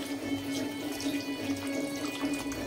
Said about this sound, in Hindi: अब हम डालेंगे इसमें एक गिलास पानी